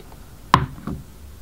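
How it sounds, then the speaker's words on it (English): The back cap of a GEO CS1 paintball marker is lifted and slid out, giving one sharp close click and then a softer second knock, with quiet in between. "The bolt assembly of the CS1 is accessed by lifting up the back cap and sliding it out of the back of the body."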